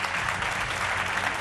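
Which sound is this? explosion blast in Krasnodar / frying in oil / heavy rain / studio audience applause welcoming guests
studio audience applause welcoming guests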